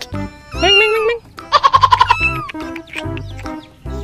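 Colorful rainbow chickens cluck and squawk up close, with a rapid burst of repeated clucks in the middle and sharp calls around it, fairly loud and with no talking.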